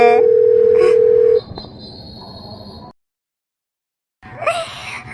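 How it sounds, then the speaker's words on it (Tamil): An incoming call rings on a phone as one steady electronic tone lasting just over a second. Low background noise follows, then a brief silence, then a short burst of sound at the end. "ஐயோ சந்தியா ஃபோன் பண்ணுறாளே"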